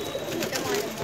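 Flying pigeons kept by a fancier in Bijnor district coo softly in brief low murmurs, close by and mixed with a faint human voice in the background.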